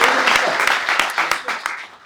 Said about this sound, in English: Big round of applause for Anushka.